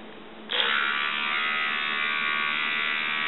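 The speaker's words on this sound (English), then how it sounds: "That's what the battery powered one sounds like." A battery-powered Oral-B electric toothbrush rated 3.7 volts DC switches on after a short quiet moment and holds a steady, loud, high-pitched motor buzz with no speech.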